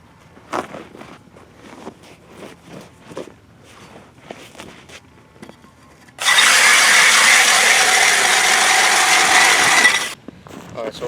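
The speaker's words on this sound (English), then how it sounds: "Get this last hole drilled in." An ice auger bores a hole through frozen lake ice while ice fishing for bass, a loud steady grinding drone running about four seconds after a stretch of quiet crunching footsteps and shuffling on the ice.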